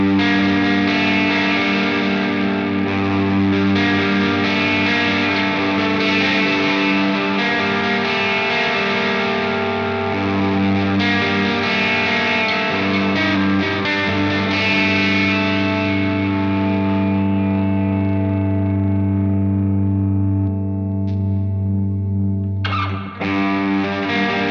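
An electric guitar runs through a Universal Audio studio reverb pedal, playing sustained chords and notes that wash into a thick, spacious reverb tail and fill the sound continuously until a brief fade at the end.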